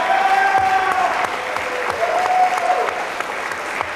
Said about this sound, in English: Let's give a nice round of applause for all of our 2023 graduating senior student athletes.